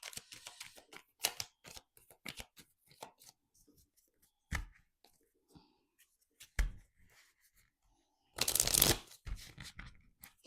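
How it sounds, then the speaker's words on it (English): Crisp riffling and snapping of a card deck being shuffled, coming in short bursts with pauses, close up and fairly quiet, ending in one longer rapid riffle. "Shuffle this deck good real quick."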